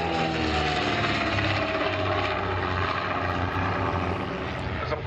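At a vintage race-day airshow, a propeller-driven racing aeroplane flies past with a loud, continuous engine drone and whirring, and its pitch slowly falls as it passes.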